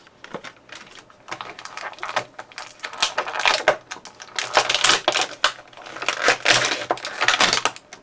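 A Power Rangers Lightning Collection Black Ranger action figure is unboxed from plastic packaging: repeated crinkly, clicking crackles and tearing bursts of plastic come close up and grow louder midway through.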